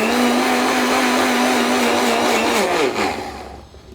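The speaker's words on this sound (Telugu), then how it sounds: "మిక్సీ ఎక్కువసేపు తిప్పామనుకోండి" A mixer grinder whirs loudly at a steady high pitch while grinding sesame and jaggery, then winds down as the motor slows and the noise fades out.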